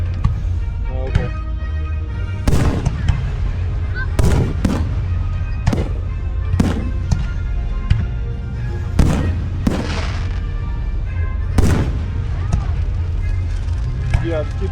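A fireworks show for a 250-year celebration heard from outdoors: repeated sharp booms and crackling bursts at irregular intervals over a constant rumbling background, with people talking now and then in between.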